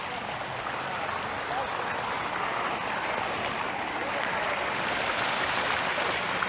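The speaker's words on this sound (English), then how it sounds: "They've got this waterfall feature that kills some of the street noise." Water from a waterfall feature beside a large hotel swimming pool in central Pattaya splashes in a steady, broad rush that holds evenly throughout, close by and moderately loud, with no talk over it.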